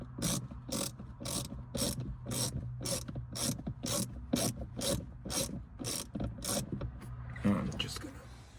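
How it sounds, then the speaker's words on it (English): A ratchet tightens a screw on a center speaker being installed in a 2025 Volkswagen Golf R, giving a steady run of evenly spaced clicks up close, fairly quiet, ending with a brief rustle. "Let's screw this guy in."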